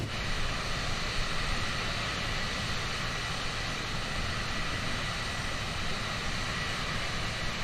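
A Cirrus SF50 Vision Jet G2 engine in Microsoft Flight Simulator 2020 gives a loud, steady broadband roar with a constant whine layered on top, continuous and unchanging from start to finish.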